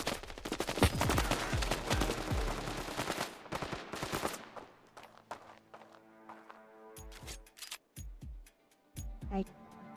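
Gunfire in Resident Evil Revelations: a rapid burst of loud, close shots in the first four seconds, then sparse single shots and clicks over quieter background, with a voice briefly heard.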